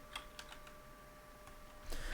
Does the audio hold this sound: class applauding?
no